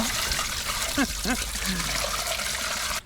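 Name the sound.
water being poured into truck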